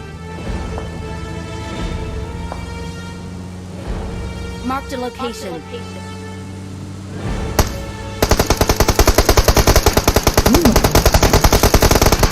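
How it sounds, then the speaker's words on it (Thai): Gunfire from players shooting on a tower in the mobile video game PUBG Mobile, scattered shots giving way to a loud rapid automatic burst near the end, over engine hum and people talking. "เขายิงกันอยู่บนหอคอยครับ"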